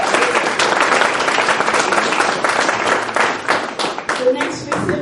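Audience at a student recognition banquet applauding in a dense, sustained burst of hand clapping from a room full of people, slightly thinning toward the end.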